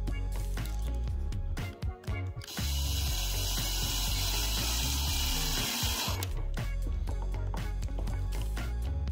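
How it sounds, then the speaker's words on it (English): A power drill whirs steadily as it bores a hole into a Ford Mustang Mach-E panel for 12 V battery access. The loud, continuous grinding runs for several seconds, with mechanical clatter before and after. "that's now where the marking where you want to drill a hole."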